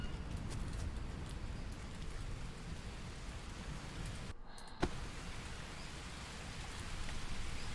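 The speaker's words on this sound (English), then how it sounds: "I didn't build a roof. And it's about to rain." Steady, dense rain falls in the jungle survival game Green Hell, a continuous close hiss that drops out briefly just past the midpoint before resuming at full strength.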